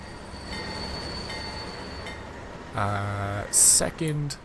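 A long train rolls along the tracks in a model railway simulation game, a steady rail rumble with some clinking, rising into louder, brief horn-like tones toward the end.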